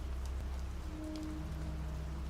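Steady rain pattering on a surface, a continuous soft wash of drops with no voices, even and unbroken throughout, with a faint low hum underneath.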